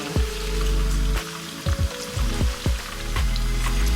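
Ripe plantain sizzles in hot oil with a steady crackle, broken by several sharp clunks and knocks of a utensil against the pan.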